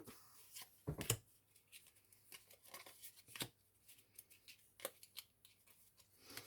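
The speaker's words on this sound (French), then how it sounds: "Alors, je vais prendre 3 cartes." Oracle cards are drawn from a witches' oracle deck, giving soft papery slides and sharp little snaps at irregular intervals, with one louder flick near the start, all quiet and close with no talking.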